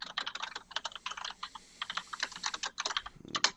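Rapid clacking keystrokes on a mechanical keyboard with Cherry MX switches, close and crisp, come in quick uneven bursts separated by short pauses, with no voices.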